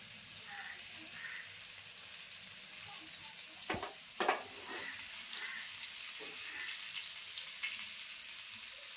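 Kingfish (surmai) steaks frying Malvani-style in a pan over low heat, a steady soft sizzle throughout with a few sharp clinks of a spatula or utensil in the middle; no talk.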